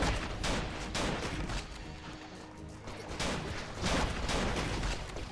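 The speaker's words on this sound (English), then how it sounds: "we're gonna shoot a couple of enemies here" Video game gunfire from The Legend of Alfur while shooting enemies, dense repeated blasts and crashing impacts in loud rhythmic bursts over a constant noisy game mix.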